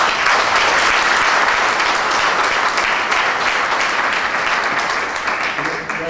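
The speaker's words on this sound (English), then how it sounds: "I just want us to applaud him for that" Audience at a university ceremony celebrating a chancellor's ten years applauding loudly and continuously for about six seconds, a dense sustained roar of clapping that eases slightly at the end.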